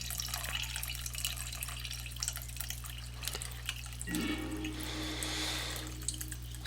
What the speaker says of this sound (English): Pour some more coffee here.